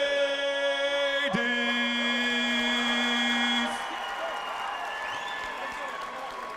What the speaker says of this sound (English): how about a nice round of applause one more time for the ladies?